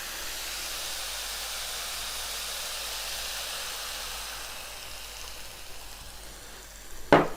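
Bottle gourd frying in a pan as milk is poured in: a steady close sizzle and hiss that softens, then a brief louder burst of bubbling and spatter near the end.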